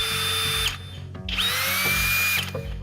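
A FLEX brushless drill driver spins at high speed in turbo mode (2,500 RPM), whining loudly in two or three bursts separated by brief pauses, close up and with no voices.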